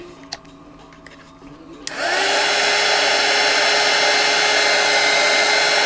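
A heat tool switches on with a few clicks and spins up to a loud, steady blowing roar as it heats a spray-painted t-shirt. The roar is close and continuous, with no speech.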